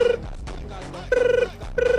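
A telephone rings for an incoming call, two bursts of trilling electronic bell separated by a pause, clear and fairly close over faint background voices at home.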